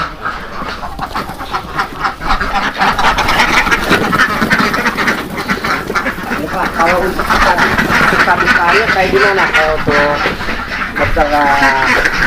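Laying ducks on a duck farm in Sukabumi quack loudly and continuously in a dense flock close by, while someone talks over the noise.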